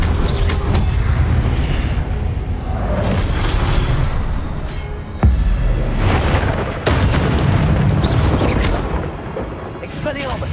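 Confringo spell blasts go off in Hogwarts Legacy, with deep rumbling booms and two sharp explosive hits midway, heard over a player's spoken spell-casting.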